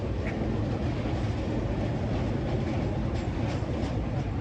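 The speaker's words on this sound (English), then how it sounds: "there's a train going by right here" A train passes close by outdoors, a steady broadband rumble with rail rattle holding level throughout without a break.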